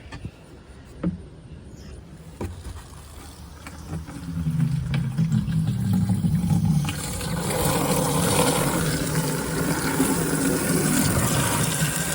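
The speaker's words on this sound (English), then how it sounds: "Okay, I'll fill up some water." Water gushes steadily into a container, a broad rushing fill that starts after a few soft knocks and continues unbroken to the end.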